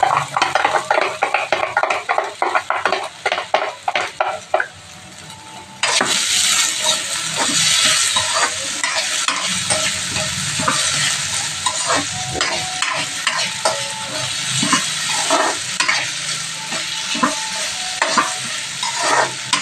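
Potatoes frying in a pan while being stirred: rapid utensil scraping and clinks first, then a loud burst of sizzling and hissing as stirring continues steadily close up, without talk.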